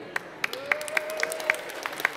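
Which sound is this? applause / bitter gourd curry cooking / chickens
applause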